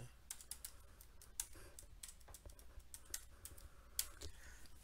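Soft, quick keystrokes patter on a computer keyboard as a password is entered, faint and irregular clicks with occasional louder taps against a quiet room background.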